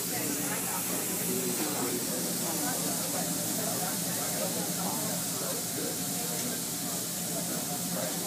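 Hibachi onion volcano steaming on a hot grill, a steady broad hiss that continues unbroken throughout, with people chatting nearby.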